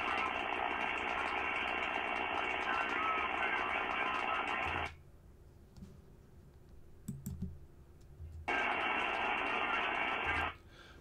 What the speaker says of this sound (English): So on the 7 megahertz band, you can hear a few amateurs. They're kind of weak, but you can hear them.